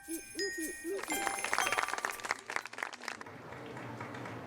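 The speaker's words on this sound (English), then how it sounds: "The applause means one of 2 things." Guests at a wedding reception break into scattered applause that swells after some tinkling chimes and faint voices, then tapers into a softer, distant murmur of claps.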